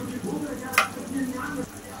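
Spice paste sautés in a pan with salt and sugar, a low, steady sizzle under one sharp clack of a spoon and soft stirring scrapes.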